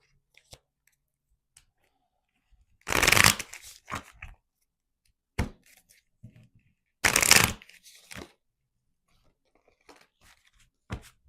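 Two bursts of tarot cards being riffle-shuffled, each followed by a few soft taps and clicks as the deck settles, with quiet gaps between.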